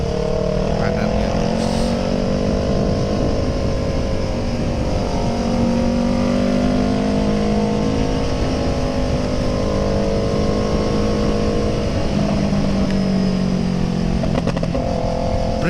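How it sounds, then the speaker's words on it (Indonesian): A Kawasaki ER6N motorcycle with a noisy exhaust rumbles steadily while being ridden at speed, its engine drone constant and close throughout, with a rider talking over it. "Berisik pasti knalpot gua."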